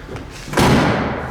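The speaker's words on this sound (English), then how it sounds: "Door shuts well." A single solid thud as the door of a 1970 Chevrolet Nova is shut, landing after a moment of low background noise and leaving a short dull resonance.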